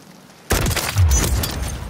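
Enemy sniper rifle fire in Call of Duty: Modern Warfare 3 breaks in abruptly after a quiet moment, a loud burst followed by a heavy low boom and a dense rumbling tail that stays loud to the end.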